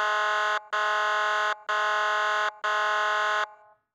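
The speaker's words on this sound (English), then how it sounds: "Not until the siren blasted for the third time." Horror-story siren blasting in a dystopian setting: four loud, harsh, buzzing electronic blasts of equal length separated by short gaps, the last fading out, heard alone.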